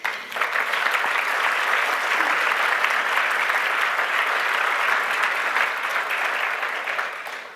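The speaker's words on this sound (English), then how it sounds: "I invite you to do what you've just done, actually, to offer one more hearty round of applause for all 7 amazing Wonder Women." Sustained round of applause from an audience at a Wonder Women celebration gala, steady and full throughout with many hands clapping together at even loudness, no voices over it.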